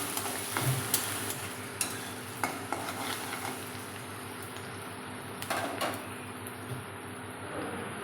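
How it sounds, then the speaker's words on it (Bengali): Chopped onion frying in a pan for pasta gives a steady, close sizzle, broken by repeated sharp scrapes and clinks as a utensil stirs it, with no voices. "পেঁয়াজ কুচি, একটুখানি ফ্রাই করা হবে"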